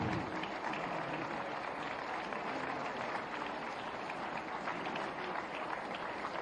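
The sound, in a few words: audience applause welcoming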